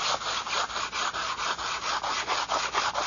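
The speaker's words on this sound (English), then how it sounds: "And you just keep sanding on this." Hand sanding of a surface for an R/C model makes a rhythmic, close scratching, with about a dozen quick back-and-forth strokes in steady succession and no talk.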